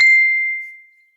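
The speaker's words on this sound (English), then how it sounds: "that was your phone." A single bright phone notification ding rings out clearly and then fades smoothly away over about a second, heard alone.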